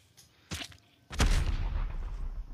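Gunfire in the video game Call of Duty during a tournament match: two bursts of shots, a short one followed by a louder, longer volley that trails into rumbling noise, fairly close and without talk.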